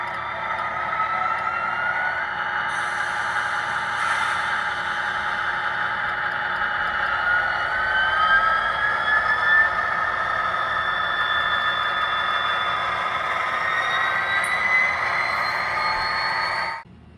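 Scale Trains Southern Pacific SD45X model locomotive running, a continuous whining, slightly squealing motor drone with shifting pitch, sustained and close for about sixteen seconds before cutting off.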